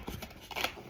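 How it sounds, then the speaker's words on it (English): Scissors snipping through a sticker on a Nintendo Switch 2 box, a short run of quiet, close cutting and rustling sounds. "Oh, I need scissors."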